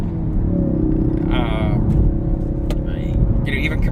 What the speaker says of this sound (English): That inline 4, you don't have to rev this motor out to make power.